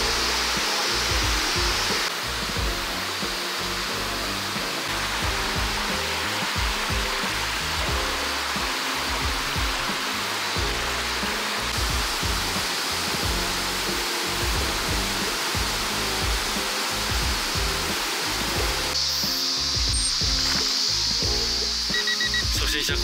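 Mountain stream flowing along a forested hiking trail, a steady close broadband rush of water that continues without break throughout.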